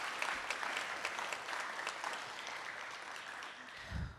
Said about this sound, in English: Let's give Run for the Wall another round of applause.